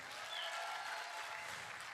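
A concert hall audience at a concert claps together in a faint, even spatter of applause heard from a distance.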